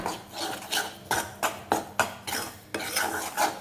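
Wheat flour roasts in a pan over low to medium heat, stirred with a utensil that scrapes and rubs against the metal in a steady rhythm of repeated strokes, close and clear with no talk.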